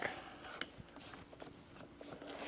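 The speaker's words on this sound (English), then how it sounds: "I will edge bevel all of the edges on the large piece, and I will do it front and back" An edge beveler scraping along the edges of a heavy piece of leather, a string of short close rasping strokes with a brief sharper scrape near the start.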